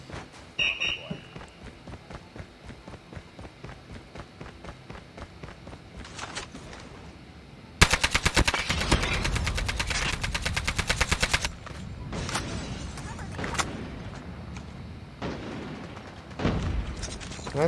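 AK-47 assault rifle fire in a mobile shooter game: scattered shots and footsteps early, then a dense, loud sustained automatic burst midway, followed by more intermittent bursts, with game sounds and some talk mixed in.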